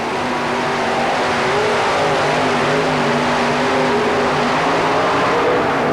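A modified pulling tractor engine roars continuously at full throttle at an indoor tractor pull in the Houston Astrodome in 1991, a loud sustained drone with a steady pitch and broad noisy rumble.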